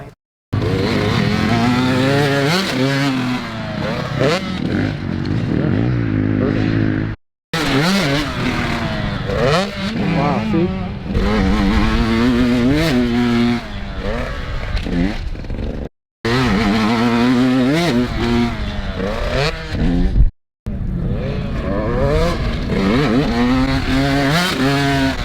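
A motocross bike rips along loudly up close in fifth gear, its engine revving hard in long sustained pulls broken by brief throttle cuts and silences as it goes over a jump.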